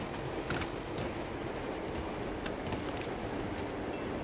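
Train in the PS3 game Infamous 2, a steady rumble with wheel clatter and brief squeals, moderately loud and continuous, alone without voices.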